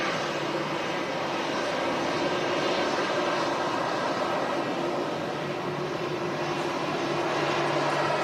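A heavy airliner taxis out at Manchester Airport, producing a steady, moderately loud engine rumble and whine that holds evenly with no break.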